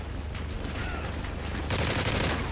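Sentry gun in Modern Warfare 3 multiplayer gameplay firing rapid automatic bursts, a continuous stuttering rattle of gunfire that grows louder and harsher toward the end.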